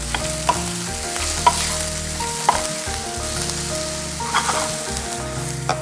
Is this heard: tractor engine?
no